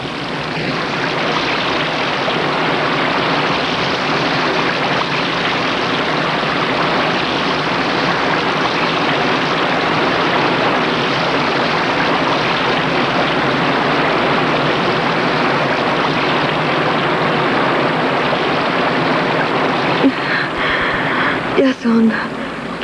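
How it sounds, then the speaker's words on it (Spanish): A strong jungle river current rushes in a steady, loud broadband roar that stays constant throughout, with a few faint knocks near the end. "Son kilómetros de río. La corriente es fuerte."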